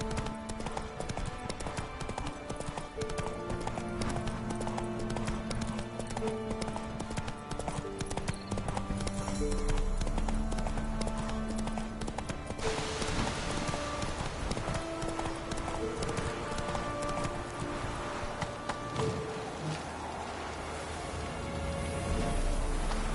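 A horse gallops in The Witcher, its hoofbeats loud and continuous against layered game music and ambience, with a brief urging call from a rider.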